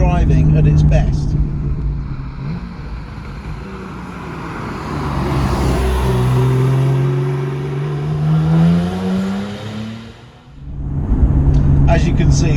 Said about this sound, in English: With the exhaust valves open, you get a delicious exhaust noise